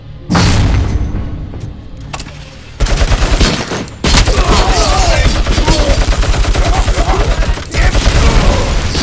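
Heavy gunfire in the Robocop: Rogue City shooter, with loud, dense rapid bursts and booming shots that cut out briefly and then resume almost continuously at close range.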